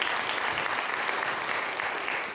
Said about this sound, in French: je pense que vous pouvez applaudir les journalistes qui ont fait ces sujets.